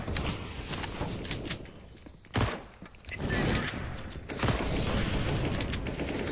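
AK rifle fire in Counter-Strike on the Mirage map, dense bursts of rapid shots that fill the clip, broken by a brief lull and mixed with game noise.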